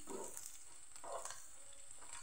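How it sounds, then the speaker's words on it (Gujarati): Urad and chana dal tempering sizzles and crackles softly in a pan for spiced idli, with light stirring scrapes breaking into the quiet sizzle in a few bursts. "હવે એને સરસ સાતડી લેશું"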